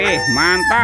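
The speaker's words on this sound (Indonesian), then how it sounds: "Wah, yang ini ada ayam berkokok." A toy rooster lets out a short, loud, close crowing call lasting under a second, with a voice speaking over it.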